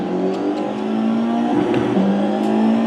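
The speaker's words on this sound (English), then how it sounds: "so this is the Formula 4 car" A Formula 4 race car engine in the racing game iRacing drones loudly and steadily, its pitch rising through the gears with a brief shift midway, close and continuous with no talking.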